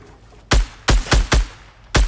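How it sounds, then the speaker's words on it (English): Gunfire in Fortnite Battle Royale: five loud, sharp shots in an uneven burst, three fired close together and two more spaced apart, ringing out over faint background hum. "Shots fired."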